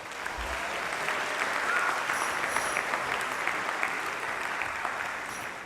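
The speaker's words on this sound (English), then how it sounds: "If you give them a round of applause." Sustained audience applause fills a school band concert at a junior high, a dense, even wash of clapping from a crowd that holds steady for several seconds.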